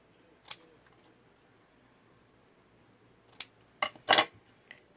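Scissors cutting paper for a handmade card, with a few short, sharp snips close by: one early, then a quick cluster of three near the end, over a quiet background.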